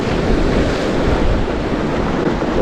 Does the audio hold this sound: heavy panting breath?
no